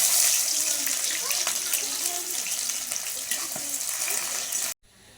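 Chopped onion dropped into hot oil seasoned with whole garam masala and cumin for a duck curry, giving a loud, rushing, steady sizzle that cuts off abruptly near the end.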